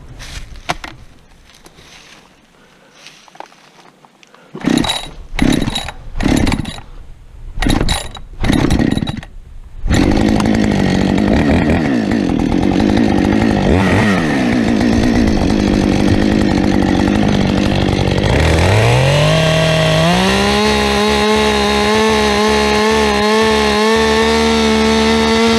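Chainsaw felling a back-leaning black locust tree: a few short, loud revs, then a long, steady, close cut, with the engine pitch dropping and settling lower near the end.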